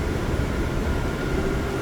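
A New York subway train heading from Manhattan toward Queens, a dense continuous rumble and rattle heard from inside the car, with no voices.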